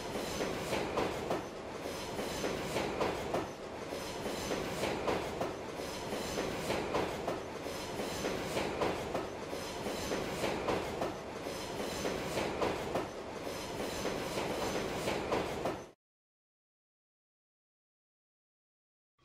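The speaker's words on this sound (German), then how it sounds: "Und der Zug setzt seine Reise fort." A toy wooden Brio train runs on its rails with a steady, rhythmic clickety-clack for about sixteen seconds, then stops abruptly into silence.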